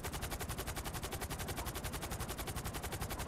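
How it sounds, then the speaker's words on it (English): Rapid automatic rifle fire in the GTA V video game, a continuous stream of evenly spaced loud shots with no pauses. "I can use a fairly good array of guns. Marksman, sniper, rifle. I like that gun."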